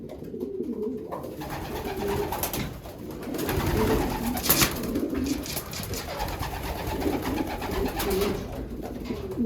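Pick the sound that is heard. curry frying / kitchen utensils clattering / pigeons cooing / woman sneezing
pigeons cooing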